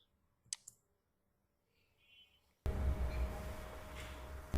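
A couple of sharp, quiet computer mouse clicks on a Windows 10 PC, isolated near the start in an otherwise hushed room before a broad burst of background noise rises.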